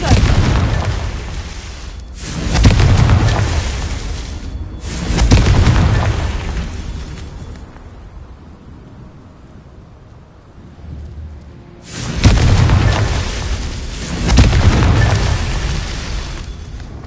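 Repeated Confringo spell explosions in Hogwarts Legacy: several loud, deep booming blasts with rumbling tails, the first few coming close together, then a quiet lull before two more heavy bursts near the end.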